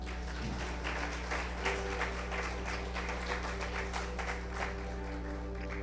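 A church congregation applauding at an anniversary service, with sustained, dense clapping from a crowd throughout, steady and moderately loud.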